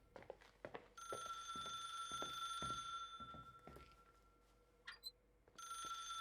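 Telephone ringing inside the video game The Suicide of Rachel Foster, a steady electronic bell tone that rings in long bursts with brief gaps, heard alone over soft footsteps and quiet room ambience.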